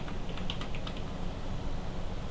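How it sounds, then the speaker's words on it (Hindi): Typing an address on a computer keyboard, a quick burst of several soft key clicks near the start followed by quiet background hiss, close by and faint, with no one talking. "यहाँ पर एड्रेस के लिए आपको टाइप करना है"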